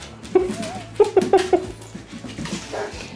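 Indoor pet dogs whimper and yip in short high whines, a few close bursts while playing and chasing a laser pointer on a cold day, with softer shuffling between.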